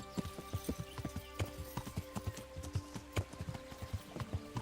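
Rapid, rhythmic hoofbeats of a galloping horse in the video game Kingdom Come: Deliverance, steady and fairly close, with a layered game soundtrack humming underneath.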